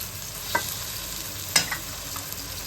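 Spices tipped into a frying pan of chicken sukkha and stirred, giving a steady low sizzle with a few brief scraping stirs and clatters standing out, close and fairly quiet, with no talking.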